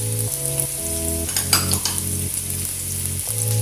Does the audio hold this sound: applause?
no